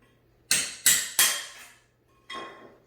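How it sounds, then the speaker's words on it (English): A chisel or crowbar pries an old nail out of a floor during carpet removal: three sharp metallic knocks in quick succession, then a fourth after a short pause, each ringing out briefly, close and loud, with no talking. "you put the chisel or the crowbar right exactly where the nail is that's going in the ground. And it comes out very easily."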